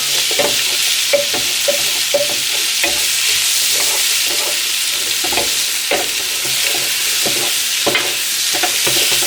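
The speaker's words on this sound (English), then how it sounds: "So I'm going to stir all that around. Make sure that garlic doesn't catch in your pan" Garlic and chorizo fry loudly in a pan for a one-pot pepper and chorizo spaghetti, a dense close sizzle broken by regular scraping stirs, with no talking.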